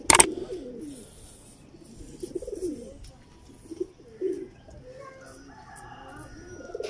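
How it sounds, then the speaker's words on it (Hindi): Teddy-breed pigeons coo softly in low, rounded murmurs, repeating several times at close range alongside a few faint higher chirps, with no talking. "ये ओरिजिनल ओरिजिनल कबूतर है टैडी"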